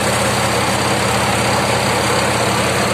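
A tractor engine labours steadily while mowing wet grass, a loud, unbroken low drone with constant texture and no voices over it.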